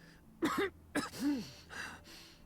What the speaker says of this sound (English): Man, that coughing is like super realistic.